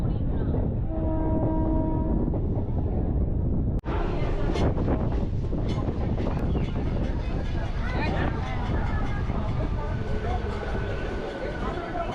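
A local train runs from Santragachi toward Digha, a loud rumbling ride with wind buffeting the microphone, a horn-like tone early on and people talking over the noise.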